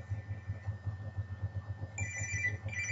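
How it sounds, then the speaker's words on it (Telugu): A Samsung Galaxy S2 smartphone rings with an incoming call, its electronic ringtone holding a steady, fairly quiet tone before shifting to brighter, higher notes near the end, over a continuous low rumbling hum, with no one speaking. "మరి ఇంకా ఎవడు ఫోన్ చేస్తున్నట్టున్నాడు"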